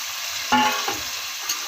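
Chopped tomatoes dropped into hot oil for chicken biryani, giving a sharp hiss and sizzle followed by steady frying and a brief stir.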